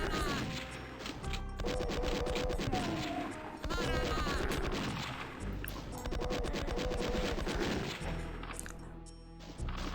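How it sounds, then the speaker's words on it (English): Super shotgun blasts in Doom II ring out amid constant loud combat noise, with dense repeated crashing impacts and gunfire filling the whole stretch, no speech. "Maybe this guy will survive a super shotgun shot, but that's fine because we can kill him with yet another."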